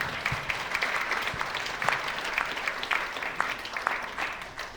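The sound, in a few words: audience applause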